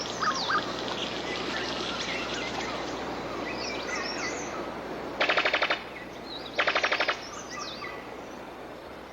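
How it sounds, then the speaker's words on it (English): Brown sicklebill bird of paradise calling in the forest, two loud bursts of rapid, machine-gun-like rattling notes standing out over a steady bed of insects and other birdsong. "A brown sicklebill bird of paradise."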